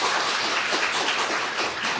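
Audience applause at a National Assembly forum on building Gyeonggi International Airport, a dense crackle of many hands clapping, steady and fairly loud throughout.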